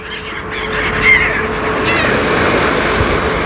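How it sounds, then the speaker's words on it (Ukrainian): Seagulls call over a beach, short squawks rising above the constant wash of surf and crowd background, with faint voices in the distance. "чаєчки"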